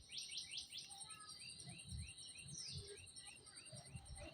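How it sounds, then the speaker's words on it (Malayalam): Several birds chirp and tweet outdoors in short repeated calls, fairly close, over a faint steady insect buzz, with no talking. "ആ കിളിൻ്റെ സൗണ്ട് കേൾക്കാൻ നല്ല രസം കേട്ടോ."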